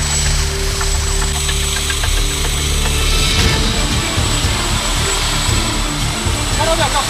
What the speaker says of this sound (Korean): 헬기는 개울가 둔치에 내려앉았다.